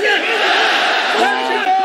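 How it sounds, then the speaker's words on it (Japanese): A loud crowd roars and cheers in the arena at the fifth Kyokushin karate world tournament during a bout, a continuous swell of voices with a commentator talking over it. "場内から大きな歓声が起こっています"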